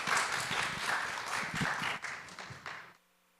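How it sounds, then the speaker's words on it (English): A conference audience claps for the panelists, a short burst of warm applause with distinct individual claps that thins out and stops abruptly after about three seconds. "I'd just like to give warm applause to our panelists."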